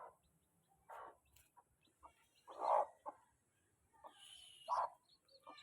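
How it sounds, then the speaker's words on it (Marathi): A hen sitting over her chicks gives a few soft, separate clucks spaced a second or two apart, close by in an otherwise quiet setting. "सो गाईज, आपली कोंबडी पाहू शकता तुम्ही"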